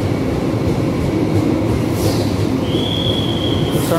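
The new Argo Pangandaran panoramic train on the Gambir–Garut route passes loudly and close through Gondangdia station, a continuous rumble of rolling wheels with a thin, high wheel squeal rising toward the end.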